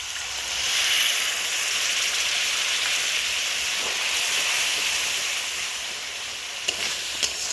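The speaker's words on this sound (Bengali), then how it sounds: "দিয়ে দিচ্ছি অল্প একটু জল।" Water goes into a pan of cauliflower and catla fish curry, bringing up a steady, close hiss and sizzle that lasts throughout, with a couple of faint clinks near the end and no talking.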